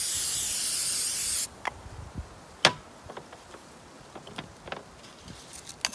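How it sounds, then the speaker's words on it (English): Oil sprayed from a can onto a rusty cast iron skillet during restoration: a loud, steady hiss for about a second and a half, then stops, followed by faint scattered clicks and taps. "You can spray some oil in it."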